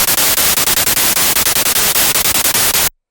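Loud bursts of gated white noise chopped into a fast, even rhythmic pattern for hard trance music, each hiss cut off sharply, ending in abrupt silence.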